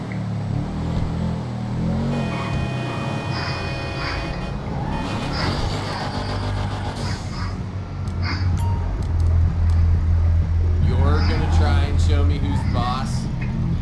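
A car drives in the video game GTA V, its engine droning steadily and revving up later, under constant talk and game sounds.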